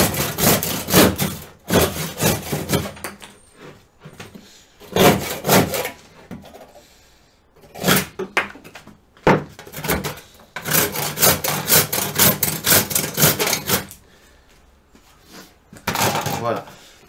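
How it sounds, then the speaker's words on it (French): A hand saw cuts through wood while a wooden Christmas reindeer is being made. Several loud, close bursts of rhythmic rasping strokes are separated by short pauses. "il me reste à finir mes traits de scie"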